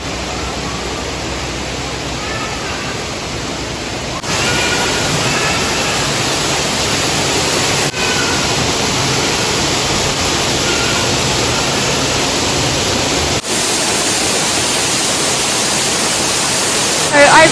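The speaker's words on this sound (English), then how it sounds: "in front of me is the waterfall" Steady broadband rush of a garden waterfall at RHS Wisley, heard from a little bridge close in front of the falling water, loud and continuous throughout with no talking.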